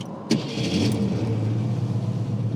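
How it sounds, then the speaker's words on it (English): A 1967 Ford Mustang's 289 V8 engine idles with a deep, steady burbling rumble after a brief sharp click, close by and without talk. "It's got a great muscle car sound to it."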